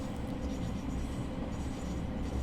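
Class 700 Thameslink train running in Train Sim World 6, a steady low rumble of rolling wheels and traction noise, moderately quiet and continuous with no talk.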